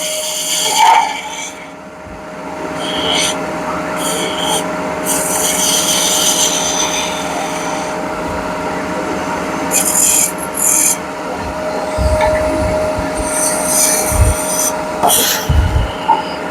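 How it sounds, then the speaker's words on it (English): A wooden top's edge is rounded over by hand, making continuous close rasping, rubbing strokes with brief pauses and a few light knocks. "So I'm going to round this over just a hair, and then we'll call the top good."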